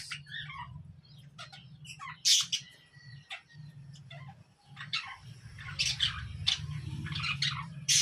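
Pet cockatiels chirp nearby in repeated bright, shrill bursts with short whistles, fairly close and lively. A low hum runs underneath, along with faint rustling from the cage.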